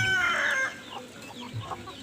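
Free-range village chickens cluck close by at a small home farm, one loud squawk first, then softer clucks over faint background noise.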